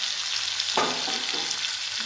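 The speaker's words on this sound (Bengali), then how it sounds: "এবার আমি এর মধ্যে ভেজে রাখা পেঁয়াজ আর ভেন্ডিটা দিয়ে দেবো।" Fried onion and okra drop into a spice masala for bhindi do pyaza, a dense close sizzle that swells as the vegetables hit the pan and are stirred.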